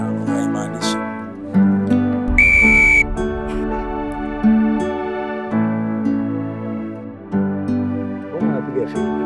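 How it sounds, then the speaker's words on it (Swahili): A person whistles a melodic tune in short, clear phrases, close and loud, while people talk between and over the whistled notes. "unapiga filimbi vipi tena?"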